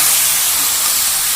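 Malabar spinach fruit (puin shaker fol) with vegetables and spices cooking in a pan, giving a steady, loud broadband sizzle and hiss with no pauses and no voices.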